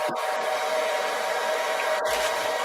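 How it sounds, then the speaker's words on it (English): A blow dryer runs nearby with a steady, loud airy hiss and whine that holds for the whole stretch, broken only by a couple of faint clicks. "Sorry for the noise. I got the blow dryer going."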